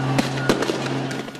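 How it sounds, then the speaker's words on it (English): Fireworks crack and pop amid a riot police clash with protesters in Taksim Square, Istanbul, a few sharp bangs standing out over a constant crowd roar and clamor. "Rocks, fireworks, and tear gas flying through the air as protesters clashed with police overnight"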